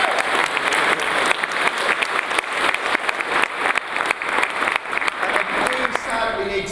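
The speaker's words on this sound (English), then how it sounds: "let's give these nice lads an applause" A conference audience claps steadily, dense applause filling the room for several seconds before tapering off.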